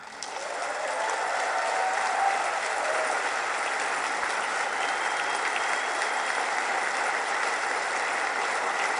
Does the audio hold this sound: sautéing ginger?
no